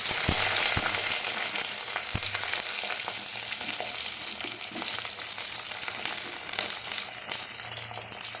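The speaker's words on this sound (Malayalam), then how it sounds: "ഉലുവയിട്ട് കടുവ് വറുത്തിട്ട് നമുക്ക് ഈ കോവയ്ക്കയും മാങ്ങയും കൂടി ഇതിലേക്ക് ഇട്ടോളൂ" Ivy gourd and raw mango frying in oil with mustard seeds and fenugreek, making a loud, dense, continuous sizzle with occasional pops and spatters, heard close up with no talking.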